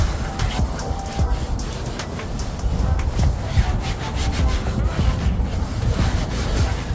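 Steady rubbing and scrubbing of cloth buffing matte-finish car paint, continuous and close, with rhythmic swishing strokes over a low background rumble.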